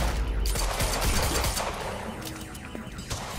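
Gunfire in the video game Quantum Break comes as dense bursts of rapid shots and booming impacts, loud and continuous with a busy background of battle noise.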